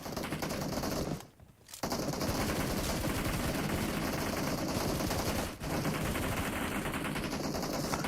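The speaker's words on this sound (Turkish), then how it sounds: "Mermiler hiçbir şekilde durulmuyor." Sustained automatic gunfire in a PUBG Mobile esports team deathmatch, loud and relentless, with overlapping bursts of shots and only a couple of brief lulls.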